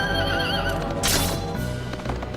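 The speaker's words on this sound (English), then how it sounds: "Ugh, they're on horses" Horses whinny loudly in the video game Suikoden 3, a high wavering neigh breaking out over busy battle music and clip-clopping hooves, with a second burst near the end.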